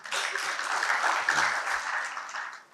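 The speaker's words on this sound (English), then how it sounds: "Let's give a clap." Conference audience clapping at an African REIT event, moderately loud steady applause from many hands lasting a few seconds before tapering off, with faint low thumps underneath.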